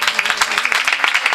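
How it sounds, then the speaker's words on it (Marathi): A kirtan audience gives a short burst of steady, even clapping that sounds close and fairly loud. "टाळ्या एकदा वाजवा यांच्यासाठी"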